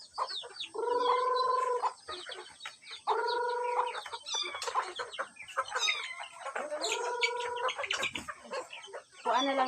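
Chickens cluck and squawk in repeated bursts, with throaty, gargling calls close by and a few pauses between.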